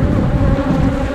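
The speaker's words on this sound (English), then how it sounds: "There's the meanest box of bees I got." Honey bees droning in a dense, continuous buzz at an open hive box, close and loud without pause.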